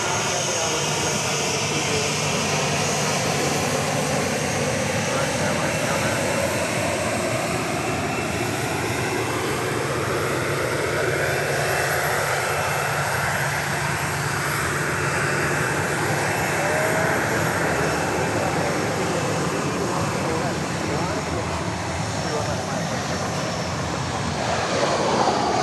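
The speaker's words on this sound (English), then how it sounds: "coming on down now is flight 4398 from Albuquerque, a" A Boeing 737-700 airliner from Albuquerque comes in to land at Dallas Love Field after dark, its jet engines giving a loud, sustained roar with a slowly sweeping whine, heard steadily throughout.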